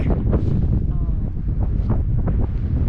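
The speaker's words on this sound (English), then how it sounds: "it's kind of windy on and off here today, and that wind is cold" Strong, cold wind buffets the microphone in a constant low roar with gusty surges throughout, on the Hermit Trail below Yuma Point.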